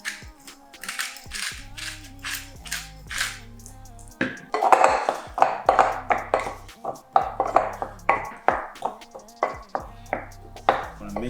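Seafood salad for pineapple bowls being tossed in a bowl, with repeated clinks and scrapes of utensil against dish in an irregular rhythm, close and fairly loud, a voice speaking briefly.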